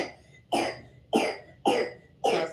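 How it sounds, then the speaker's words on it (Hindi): Four sharp coughs in a steady rhythm, each about half a second apart, close and fairly clear with quiet pauses between them. "खांसी आ रही बेटा आपको"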